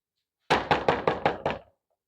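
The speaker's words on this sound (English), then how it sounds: "I'm going to knock on the door." Six sharp knocks on a door at home, evenly spaced and close, with nothing else heard.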